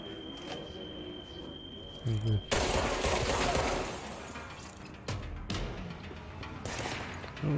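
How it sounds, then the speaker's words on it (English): Gunfire in the video game Control: loud, bursting shots and crashing, shattering impacts in repeated volleys, dense and close, with a steady tone in the background early on. "Is the gun too loud? It's very loud to me"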